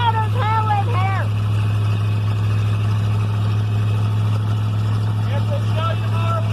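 A 1972 Dodge truck with a swapped Hemi engine and no mufflers rumbles loudly at a steady low idle in an enclosed space, while people talk over the drone.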